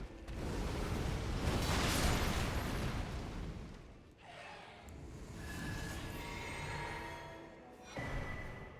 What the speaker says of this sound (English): those explosions are really loud when they hit the wall.